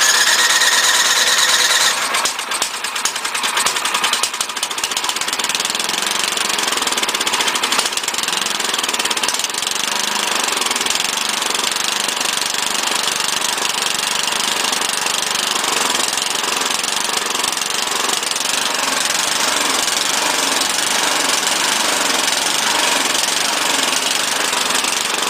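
A 12-year-old small engine on a mower or snow blower runs rough with choke and throttle up, a loud, continuous uneven sputtering and knocking drone that holds steady throughout with no talking.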